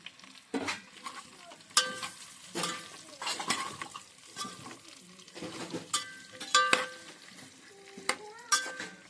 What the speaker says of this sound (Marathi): आता ह्याच्यात आवळे सगळे टाकून घ्यायचे आपल्याला सगळं मिक्स करून घ्यायचं